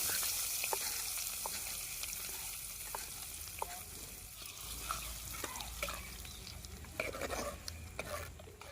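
Tempering spices, curry leaves, asafoetida, turmeric and lentils sizzle steadily in hot oil in a pan, with scattered scraping clicks from stirring and a constant frying hiss.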